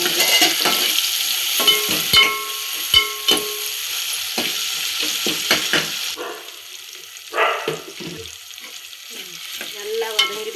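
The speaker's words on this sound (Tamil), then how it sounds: "இன்னும் கொஞ்சம் வதங்குது." Ingredients for a katla fish kulambu sautéing in a pan, a steady close sizzle broken by sharp scraping stirs and spatula clinks, with no voices.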